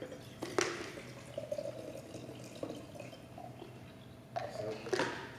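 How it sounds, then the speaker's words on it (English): Dasani bottled water is poured out over tomatoes, a light trickling and dripping close by, with a few louder splashes at the start and near the end, over a faint background hum. "So let's pour out the Dasani water."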